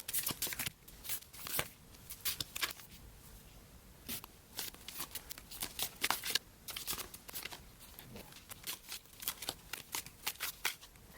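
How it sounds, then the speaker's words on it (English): Tarot cards shuffled and laid out on a table, a series of close crisp flicks, riffles and soft slaps in an irregular rhythm, quiet with no talking. "let me lay these cards out and then we will get started"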